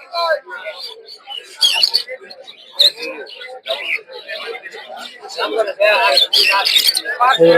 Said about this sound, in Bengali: এছাড়াও টিয়া পাখি দেখতে পাচ্ছেন সুন্দর